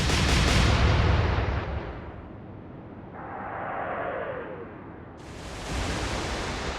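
Eight-inch naval guns fire high-explosive shells in the Atlantic Fleet naval video game. A loud heavy blast rolls off into a fading rumble, a lower whistling whoosh follows, and a second burst of noise closes it out.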